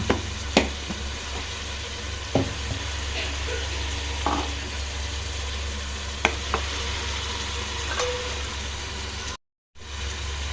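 A spoon stirs turmeric, chili powder and coriander powder into coconut milk rice in a pan, with a low steady hum of cooking underneath and a few scattered scrapes and knocks, no speech.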